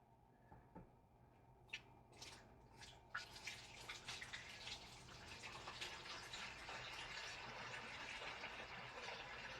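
Water from a 5-gallon pail poured into a 3D-printed hydroponic waterfall tower: a few faint drips and splashes first, then a steady trickling flow that builds and stays even, quiet and close, no voices.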